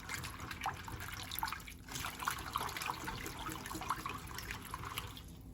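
Chard leaves are swished and washed in a bowl of water, producing close, soft splashing and trickling with small drips throughout.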